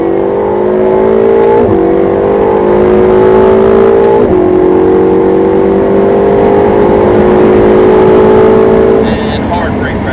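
A Ferrari 488 GTB's turbocharged engine pulls hard under acceleration as the turbos build, a loud steady rising drone with two quick gear-shift dips, heard close from inside the car.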